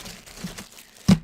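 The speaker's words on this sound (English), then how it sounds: "I also keep my inhalers in a plastic bag, that's what that sound is" A plastic bag full of inhalers gives one short, sharp crinkle up close, after a few soft rustles.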